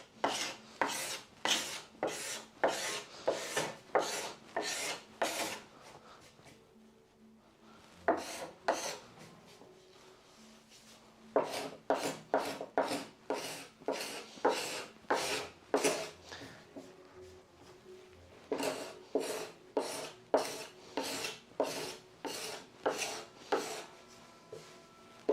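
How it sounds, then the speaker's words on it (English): A hand scraper rasps old paint remnants off a wooden door in steady, rhythmic strokes, grouped in bursts with short pauses between, close and loud, with no talking. "a bit of scraping. I think it's mostly scraped"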